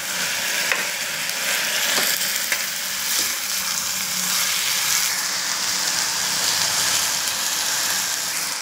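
Onion and curry leaves fry loudly in a pan for cauliflower bhurji, a dense, rain-like sizzle that runs without a break under a few soft stirring scrapes.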